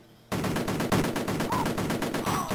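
Soldiers' gunfire in the Amiga video game Cannon Fodder: after a brief quiet start, rapid, evenly spaced bursts of shots crackle steadily, loud and continuous with no talking over them.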